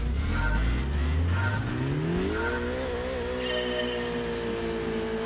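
A Daihatsu car engine in Gran Turismo 2 accelerates hard off the line, pitch climbing through gear changes with a sustained, loud synthetic engine drone and no talk.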